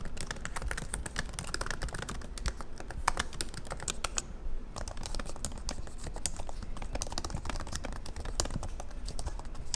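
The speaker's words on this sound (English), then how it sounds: "this one has the new keyboard, so you're going to notice it's going to be a lot less intrusive when you're doing any type of typing" Fingers type steadily on the newer, quieter keyboard of an Apple MacBook Pro, a dense run of light, close clicks with one brief pause midway.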